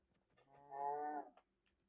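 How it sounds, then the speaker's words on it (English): A Minecraft cow gives a single clear, tonal moo lasting about half a second, alone against near silence. "Cow."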